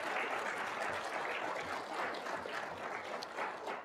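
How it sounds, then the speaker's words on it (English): Faculty and staff of a school induction ceremony receive a round of applause from the audience, moderately quiet and steady clapping heard alone, slightly distant. "Let's give them a round of applause."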